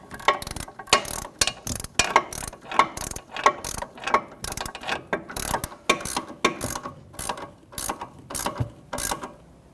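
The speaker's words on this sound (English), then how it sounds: "Let's snug it up before we torque it." A ratchet snugs up a sway bar link nut on a 2015-2024 Jeep Renegade, giving a steady, loud run of rapid clicking strokes in even bursts right through, close to the listener with no talking.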